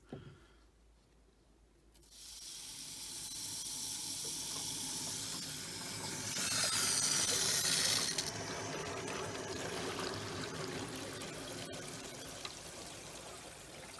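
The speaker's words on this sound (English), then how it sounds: "So I'm going to turn them on right now and see what happens. I'm going to turn it on and hope we don't leak anywhere." Water rushes through a newly installed UV Bluonics ultraviolet water sterilizer as a valve opens, a steady hissing flow that begins suddenly, swells louder midway, then settles into a constant rush with no talking.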